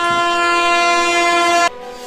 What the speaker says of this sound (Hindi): एक तेज ट्रेन के हॉर्न की आवाज आती